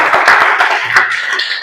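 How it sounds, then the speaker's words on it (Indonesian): A classroom of pupils clapping their hands together at the end of a lesson, a dense, steady patter of many hands at close range throughout. "Tepuk tangan buat kalian semua."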